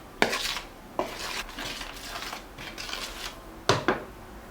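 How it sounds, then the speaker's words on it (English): Sifted flour, baking powder and salt are stirred together in a bowl for a rice cooker apple cake, giving close scraping and clinking strokes with a few sharper knocks against the bowl's side. "Mix up the sifted flour, baking powder, and the salt together."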